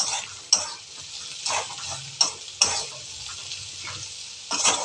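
Bombil (Bombay duck) fish cooking in a pan over a low gas flame, giving a steady soft sizzle and frying hiss with several brief louder bursts, as if the pieces are stirred or turned, and no talk.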